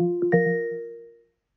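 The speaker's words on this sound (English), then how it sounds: "a sound effect plays first before a voice suddenly starts talking to us out of thin air" A short chime plays ahead of a smart-home text-to-speech announcement: two quick bright struck tones that ring out and decay smoothly over about a second, clean and alone, ending in silence.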